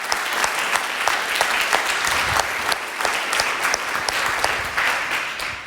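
A summit audience gives a big round of applause, dense steady clapping filling the room with some louder individual claps standing out.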